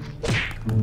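A punch lands in the Roblox game Da Hood, a loud dull thud with a quick whoosh, followed by a second heavier thump near the end.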